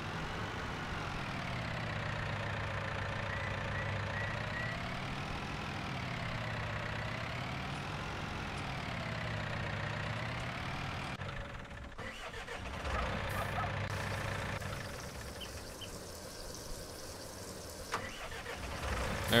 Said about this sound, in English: Might look a little weird with the tractor discbine coming to roar in here.